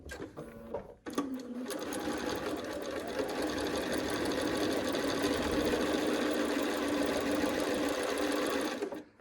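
A sewing machine stitches a quilt block seam in a fast, continuous mechanical whir that runs steadily for about eight seconds after a brief start, then stops.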